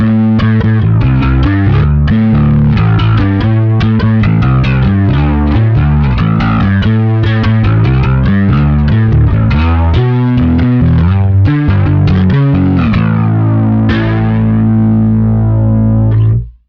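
A distorted bass guitar runs through a flanger and a Rat distortion pedal, its thick, sweeping notes played continuously and loud for about sixteen seconds before ringing out and cutting off abruptly.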